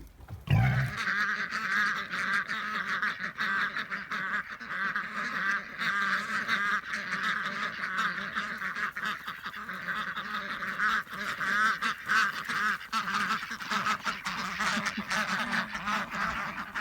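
Ducks quack loudly and continuously at a pond, a dense, steady chorus of overlapping calls from a crowd of birds expecting food, with a faint honking quality throughout.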